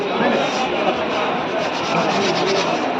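A hand sweeps rangoli powder across a stencil, making a steady, continuous dry rubbing and rasping hiss that stays close and fairly loud throughout, with no clear breaks.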